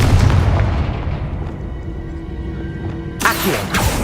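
Confringo fire spell exploding in Hogwarts Legacy: one loud, deep booming blast that rolls and decays over a few seconds, followed by a sharp, bright secondary burst near the end.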